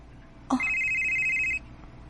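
A telephone rings once in a radio drama, a short click followed by a steady electronic trill lasting about a second over a low background hum.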